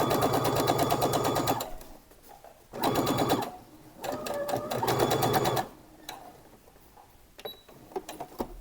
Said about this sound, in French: Donc, je couds ma pince.